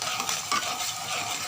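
Poha being stirred in a hot pan with hing powder gives a soft, brief scrape and sizzle, close and faint, with no voices.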